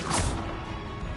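Confringo fire-blast spell striking in Hogwarts Legacy gameplay, a sharp whooshing burst that crashes in at once and then trails off into a roaring rumble, loud and close, with no talk.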